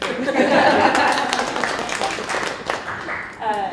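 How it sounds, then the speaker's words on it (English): Audience at an LGBTQ literature festival fantasy panel breaks into applause, a dense burst of clapping at the start that thins out, mixed with a few chuckles and voices talking. "give him a round of applause anyway"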